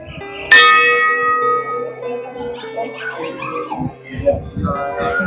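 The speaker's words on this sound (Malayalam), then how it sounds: "മണിയടി മണിയടി" A temple bell at Chikka Thirupathi near Bangalore, Karnataka, is struck once loudly nearby and rings out, decaying as people talk and a dog yips in the background.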